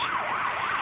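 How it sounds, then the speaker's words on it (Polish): A police car siren wails in a steady rising and falling sweep, loud and continuous, heard alone on a street by a Tesco store. "to jakaś policja. No i spod tego Tesco na sygnale"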